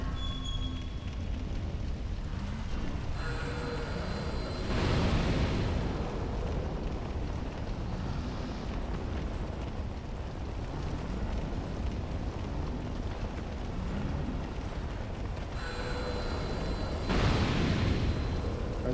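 Enemies exploding in Dark Souls 2, heavy rumbling blasts that swell at intervals over a constant low roar of fighting and ambience, loud with no talking.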